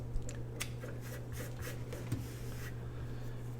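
Scissors cutting paper while a correspondence journal is made from a Priority Mail box: a few soft, close snips over a steady low hum in a quiet room.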